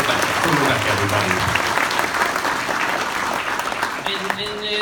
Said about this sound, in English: I think that is worth an applause, ladies and gentlemen